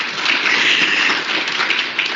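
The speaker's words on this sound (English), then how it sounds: "Thank you for clapping hands for me." An audience applauds with a dense, steady patter of clapping hands that continues evenly for a couple of seconds.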